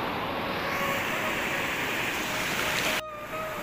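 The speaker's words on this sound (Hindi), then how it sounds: "क्योंकि नदी का यहाँ पर शोर ही इतना है।" The Gola river near Haldwani rushes loudly and continuously, a dense close roar of flowing water with no break and no talk over it.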